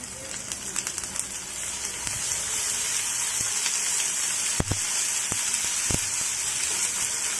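Ginger-garlic paste sizzles in a hot oiled pan, a steady close crackling hiss with a few sharp clicks from a utensil partway through.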